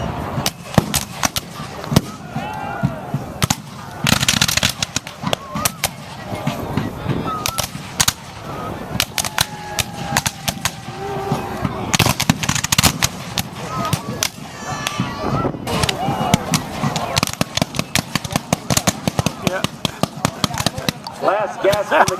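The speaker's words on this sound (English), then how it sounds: "He got quite a few with that Gatling gun that time." Rapid, ragged bursts of gunfire from a Gatling gun ring across a field during the Raid on Brooksville Civil War battle reenactment, loud, sharp cracks packed densely over a continuous crowd-and-wind background, with voices talking at times.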